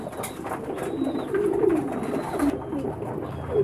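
Pigeons coo in low, soft, repeated calls against a steady background hiss, with a few faint higher chirps.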